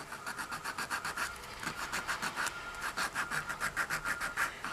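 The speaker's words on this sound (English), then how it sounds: "Sometimes I just sand down." Sanding on a doll under restoration gives a steady back-and-forth rasp, about two strokes per second, close and fairly loud, with no voices.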